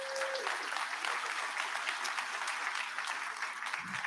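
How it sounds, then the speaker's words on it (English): A conference audience in a hotel ballroom gives sustained, even applause for about four seconds, a dense wash of clapping heard at moderate distance with no talk over it. "So round of applause for that."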